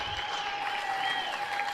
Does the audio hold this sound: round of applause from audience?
yes